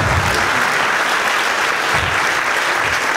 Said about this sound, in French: on peut l'applaudir Cyril quand même pour ce lancement